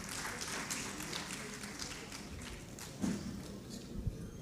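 An audience at a literature festival session in Pakistan claps steadily, a soft, diffuse patter of many hands with a few louder thumps near the end.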